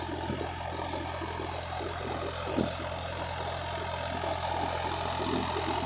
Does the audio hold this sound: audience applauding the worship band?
no